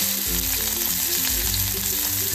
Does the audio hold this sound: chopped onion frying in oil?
yes